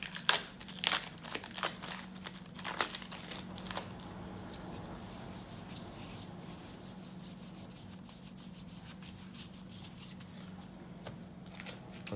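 Plastic wrapping on 1991 Score hockey card packs crinkles and rips in quick close bursts, then settles into softer rubbing and shuffling of cards against a low steady hum.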